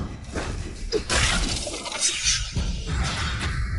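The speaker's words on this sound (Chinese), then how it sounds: "哎呀，怎么把盒子给摔了？ 怎么能摔了呢？" A prized treasure box is hurled down and smashed in a palace hall, giving a loud, sharp shattering crash followed by scattered clattering debris, with no talk over it.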